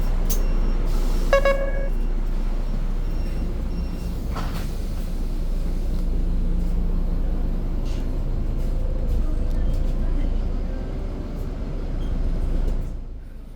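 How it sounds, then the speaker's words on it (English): Ride aboard a city bus through Mexico City traffic, a steady low engine rumble and road noise with a brief horn toot and passing clatter, fading out at the end. "Soon I was on the bus and we were going to be on our way."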